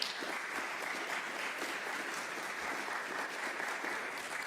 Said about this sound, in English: So one more applause for that, please.